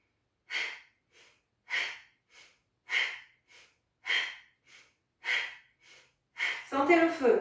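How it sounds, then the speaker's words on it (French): Rhythmic forceful breaths in a dynamic yoga breathing exercise aimed at the Manipura chakra: six strong puffed exhalations, each followed by a softer short inhale at a steady pace, ending in a breathy voiced outbreath, close and clear. "On inspire normalement, on expire dynamique."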